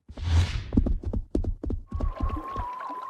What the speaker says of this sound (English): Like the walrus